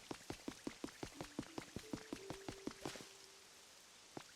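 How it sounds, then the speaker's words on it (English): Video game rain falls in rapid, regular drip-like taps, pattering for about three seconds, then fading, leaving a faint hiss and one last isolated tap. "Oh, the rain is actually slowly watering the grass for us"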